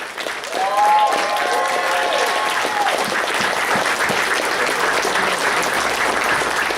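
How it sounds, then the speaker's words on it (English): An indoor audience breaks into sustained applause, a dense wash of clapping with a whistle-like tone near the start and a few voices mixed in. "So let's give them another round of applause"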